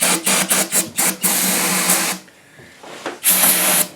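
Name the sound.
brake cleaner being sprayed into a bolt hole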